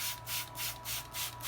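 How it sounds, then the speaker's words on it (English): A spray bottle mists water onto live sphagnum and forest moss on a Dracula lotax orchid mount, with five quick, close hissing bursts in a steady rhythm and no talking. "we're going to go ahead and give it a little bit of a spray"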